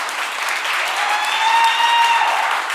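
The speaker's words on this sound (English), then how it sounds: "Give yourself a round of applause." Sustained applause from a real estate workshop audience fills the room, steady and dense with a faint whistle riding over it, no talk on top.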